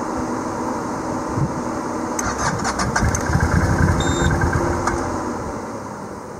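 Engine of a 2020 CFMOTO Cforce 800 ATV that has a fault where it stops idling. It starts up close and loud, surges briefly with a few metallic clicks, then settles into a rough steady idle.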